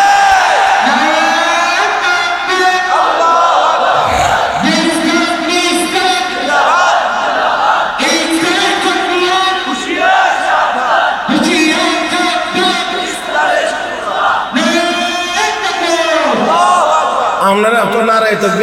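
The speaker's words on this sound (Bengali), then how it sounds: "আপনারা তো নারায়ে তাকবীর আল্লাহু আকবার বলতে বলতে কাহিল হয়ে গেছেন" A large crowd at a religious gathering loudly chants Nara-e-Takbir Allahu Akbar, with repeated surging calls and shouted responses that fill the space continuously.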